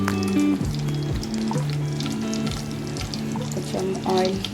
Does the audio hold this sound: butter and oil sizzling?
yes